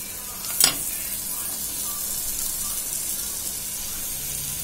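Chopped tomatoes added to a hot pan of onions for a crab pepper masala, a loud close hiss with a sharp burst of sizzling at the drop, then a steady frying sizzle.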